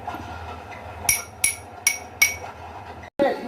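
A metal spoon strikes a drinking glass inside a closed room, four bright clinking taps in an even rhythm followed by one more after a brief pause, close and clear.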